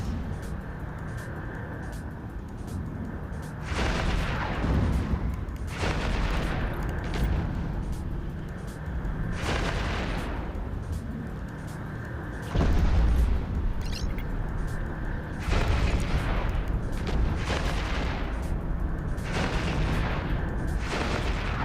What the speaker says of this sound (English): Oh, the new cannon animation, it's actually really good.